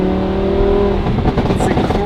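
A Lamborghini Huracan LP610-4 V10 with factory catalytic converters revs loudly up close, a steady high-pitched engine tone climbing and then breaking into a crackling, burbling roar, with a voice talking over it.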